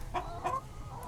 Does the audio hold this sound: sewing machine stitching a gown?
no